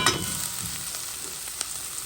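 Bread sizzles in a frying pan with onion, a steady crackling fry with a few scraping stirs and light clinks of a utensil against the pan.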